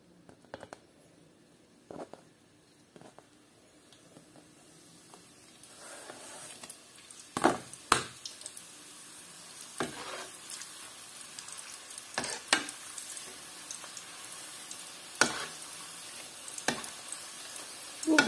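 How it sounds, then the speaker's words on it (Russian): Pieces of Tatar khvorost dough frying in hot oil give a steady crackling sizzle that builds over time, broken by sharp clatters and pops from the pan. The sound is close and carries on its own with no talking. "Продолжаем жарить."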